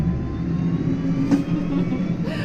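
A tractor engine revs hard at full throttle in a higher gear, giving a steady, sustained drone that holds at a loud level throughout the short burst.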